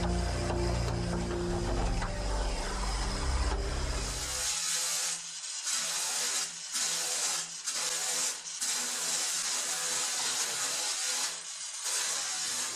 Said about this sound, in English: I'm using an extra coarse sanding disc here